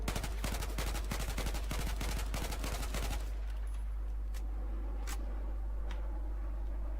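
Rapid bursts of automatic gunfire from an assault rifle fired from the hip in Battlefield 4 crack for about three seconds, then stop, leaving a few isolated sharp clicks and faint ambient noise.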